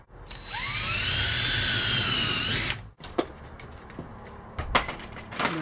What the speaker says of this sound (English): Do a pre-drill.